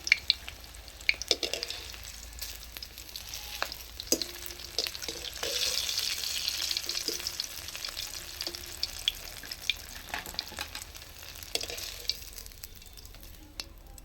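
Wheat-flour snacks fry in oil with a steady crackling sizzle that swells in the middle, punctuated by scattered clicks and scrapes of a utensil.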